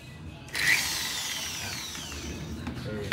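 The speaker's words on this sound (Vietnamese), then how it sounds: "Đây là chế độ khoan bê tông, các anh chị nên chỉnh là chế độ khoan thép cho nó được dặn." Power drill switched to concrete drilling mode whirs steadily after a sudden start, a loud, close high-pitched spin with a slight falling tone, running without talk while setting up a plastic-pipe irrigation system.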